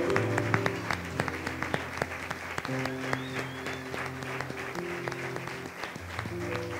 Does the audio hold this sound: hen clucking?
no